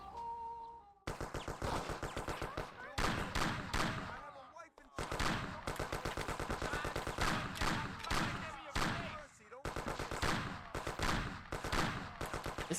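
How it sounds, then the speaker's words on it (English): Sustained rapid gunfire in the Mafia video game as a police station is shot up, loud bursts of automatic shooting broken by brief pauses and stretching through the whole stretch. "So I'm just about to shoot up a whole police station"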